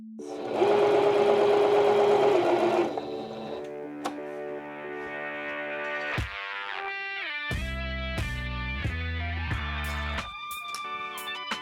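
A cheap household sewing machine running close and loud, first a dense, steady mechanical drone, then a lighter whirring hum with rhythmic clatter, a short stop and a restart, with no talk.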